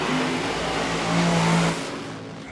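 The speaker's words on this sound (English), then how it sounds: "hear the sound of a startup for the Top Fuel Dragster as well, and breathe in that nitro" Top Fuel Dragster on nitro at Willowbank Raceway starting up, a loud, steady, dense engine roar close by that holds for under two seconds, then drops off sharply.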